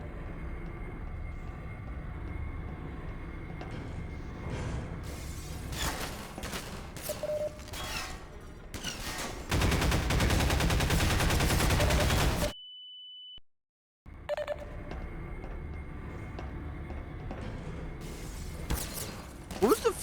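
Bursts of gunfire ring out in the video game Half-Life 2, scattered shots and sustained rattling volleys with a long loud stretch, a brief drop to near silence, and a voice talking over parts of it.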